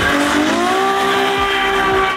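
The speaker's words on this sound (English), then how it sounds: "I don't know if you guys remember what this car sounded like when it was completely stock, but you can listen to that right now" Stock twin-turbo Ferrari engine and exhaust played back from a recording, a loud continuous harmonic drone with rising tonal bands and brief low thumps, alone without speech.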